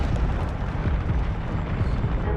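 Incendio fire spell cast in Hogwarts Legacy, heard as a continuous, heavy roaring whoosh of flame with deep rumbling body, loud and steady throughout, with no speech.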